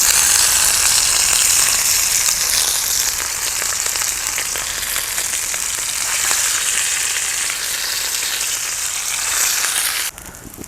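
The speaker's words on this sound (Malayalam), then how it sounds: "എന്നിട്ട് നമുക്ക് അതൊന്ന് ഈ ഓയിലിൽ ഒഴിച്ചിട്ട് വറുത്തെടുക്കാം." Mutton rib pieces deep-frying in oil in a village outdoor cooking setup, a loud, dense, steady sizzle with crackling throughout that drops off abruptly near the end, no talking.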